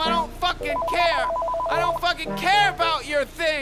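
A telephone rings with a steady electronic trill in an office-accounting virtual reality game, sounding under a man's loud, animated talking.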